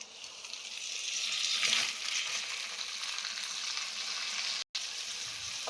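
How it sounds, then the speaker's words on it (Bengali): Soaked, drained moong dal and gobindobhog rice stir-fry in a pan with a soft, even sizzle and faint stirring, fairly quiet and close, with a brief cut near the end. "খুব ভালো করে নাড়াচাড়া করে ভেজে নেব"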